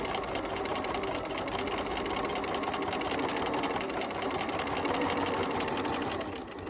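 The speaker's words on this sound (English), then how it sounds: "Then begin sewing to the corner." A sewing machine stitches fabric toward a corner, its steady rapid mechanical whir running continuously and fairly loud until it eases off at the very end.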